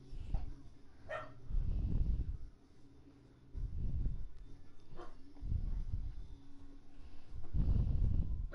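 A dog barks repeatedly in low, heavy bursts spaced a second or two apart, fairly close and loud, at a house where a visitor has just arrived.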